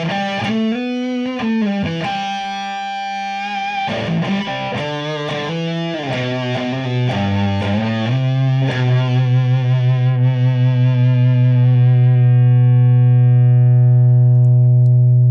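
An electric guitar plays through an Earthquaker Devices Barrows fuzz pedal, loud and up close, as thick, gritty chords and notes give way to a long sustained low note that rings out and slowly fades.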